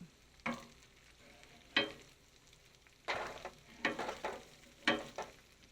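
Breakfast food on a griddle gives a faint, steady sizzle broken by several sharp scraping and flipping clanks from a spatula.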